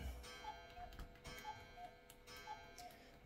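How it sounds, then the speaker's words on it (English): A cuckoo clock in a home ticks steadily at an even pace, faint and distant, with soft regular tones but no clear cuckoo call. "let my cuckoo clock finish cuckooing"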